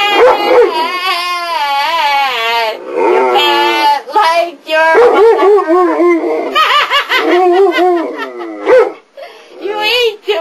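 A big dog howls loudly in long wavering tones along with a person singing, the two voices overlapping in a sustained duet with brief pauses.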